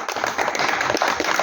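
An audience claps briefly at a Hindi poetry recital, a dense, even patter of hands at moderate distance with no voices over it.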